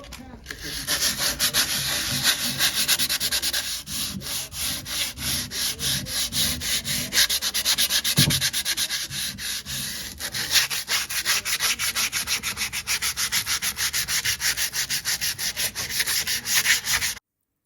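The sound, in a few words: sanding wood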